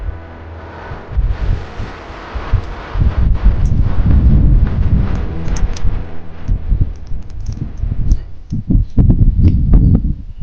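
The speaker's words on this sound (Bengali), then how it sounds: "প্রচন্ড হাওয়া দিচ্ছে" Strong wind blowing beside a lake at Kasimbazar buffets the microphone with loud, low rumbling gusts that rise and fall unevenly the whole time.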